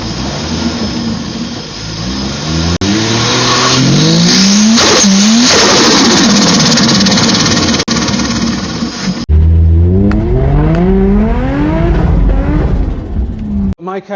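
Turbocharged Lexus IS200 running a 10 psi wastegate spring revs hard through several climbing gear pulls, a loud, close engine roar with sharp shift breaks and turbo whoosh, then another strong acceleration run after a brief cut.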